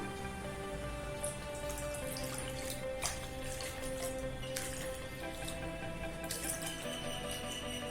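Milk being poured from a cup into a kadai for carrot payasam, a soft steady liquid trickle and splash heard faintly and continuously without any talking.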